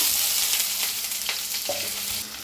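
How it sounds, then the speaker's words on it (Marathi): Half a spoon of cumin seeds hits hot mustard oil in a pan, giving a bright, steady sizzle and spatter, close by and unaccompanied by speech. "तेल चांगलं गरम झालेलं आहे त्याच्यात टाकूया जिरं अर्धा चमचा"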